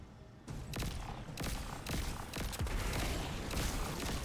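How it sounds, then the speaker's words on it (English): A raid pulse rifle fires in Destiny in several rapid bursts of sharp, punchy reports, loud and close over a constant game backdrop of rumble and effects. "This pulse rifle's from the raid."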